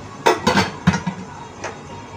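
Pots and metal utensils clink and knock a few times in a home kitchen while roti and dal are cooked, sharp close clatters spaced out over a brief moment.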